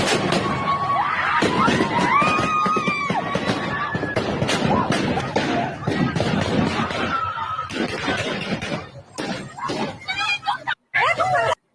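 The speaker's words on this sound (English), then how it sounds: "that's gunshots, right?" Gunshots in a played recording, a chaotic series of sharp bangs and cracks mixed with shouting and crowd noise, loud throughout and breaking off near the end.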